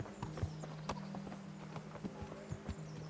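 Horse hooves clip-clop at a steady walking rhythm in the medieval game Kingdom Come: Deliverance, close and distinct over a low sustained drone, with a few heavier thuds and no talking.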